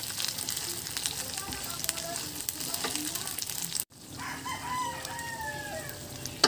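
Pork binagoongan frying in a pan gives off a loud, steady sizzle. A rooster crows in the background and there is some brief stirring.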